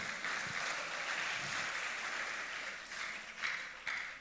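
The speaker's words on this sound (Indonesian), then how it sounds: "beri tepuk tangan buat Tuhan kita" Applause from a church congregation during a worship service, a steady, fairly faint wash of clapping that swells slightly near the end, with no voices over it.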